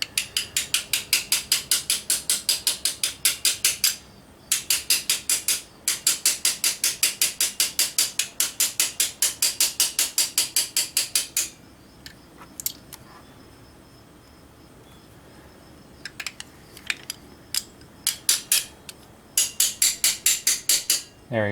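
A small socket taps a fuel injector cap down onto a BMW N54 engine in rapid bursts of sharp metallic clicks, with steady runs of taps, a pause, then sparser scattered knocks toward the end.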